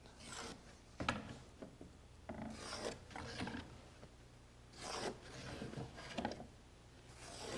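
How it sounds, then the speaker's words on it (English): A pencil draws lines across wood boards for a birdhouse, faint scratchy rubbing strokes in several short passes with pauses, close by and quiet. "Now, I'm going to draw these lines across."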